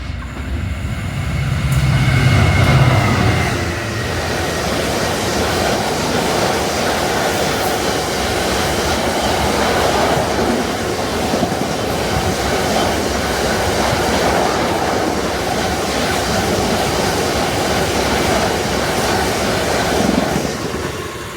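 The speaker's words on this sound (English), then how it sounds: "you do get plenty of freight trains on this line" A freight train rolls through a railway station on the Mid Cheshire Line, a loud sustained rumble with rhythmic wheel clatter over the rails that swells near the start and then holds steady as the wagons pass.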